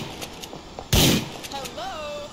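A single loud shotgun blast in GTA IV, sharp and close, followed by faint game background sounds and a rising tone.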